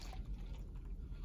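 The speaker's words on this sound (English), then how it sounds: "I'm gonna just pour this out of my travel mug into my heat-safe cup" Boiling water poured from a travel mug into a heat-safe cup, a soft, continuous liquid trickle heard close up and fairly faint, with no talking over it.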